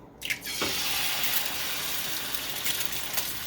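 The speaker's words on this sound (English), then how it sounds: "Take your egg. Smack it right in half, right here, and just tear it apart." An egg cracked into a hot pan, a brief crack followed by a loud, steady sizzle that continues evenly to the end.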